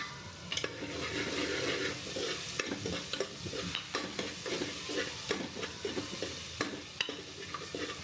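Onions sautéing in a pan for a banana curry, a continuous close sizzle with frequent scraping stirs from a spatula throughout.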